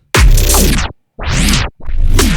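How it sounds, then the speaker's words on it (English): Three bursts of dense music each slowing and dropping in pitch as a tape-stop effect grinds them to a halt, separated by brief silences. "it's a cool free plugin to do the tape stop effect"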